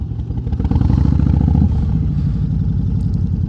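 A motorcycle engine running while being ridden on twisty roads, a loud steady mid-pitched drone with a rougher stretch in the first half, close and continuous without any talk.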